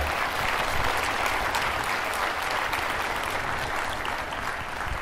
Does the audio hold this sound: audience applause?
yes